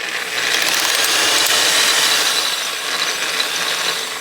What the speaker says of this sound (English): You can't really hold on to the output shaft and hold the drill and shift.